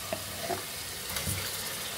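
Chicken pieces with tomato and ginger garlic paste sizzling and frying in a pan while being stirred, a steady close crackle with a few scraping stirs.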